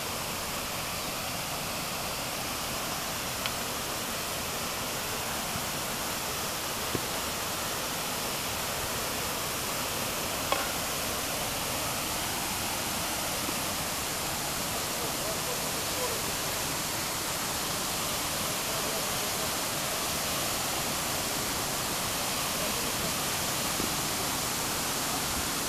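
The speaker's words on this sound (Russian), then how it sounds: "Серьезный водопад, водопады с большой силой." Powerful waterfall in Crimea roaring as a dense, continuous broadband rush of falling water, steady and unbroken throughout with no voices.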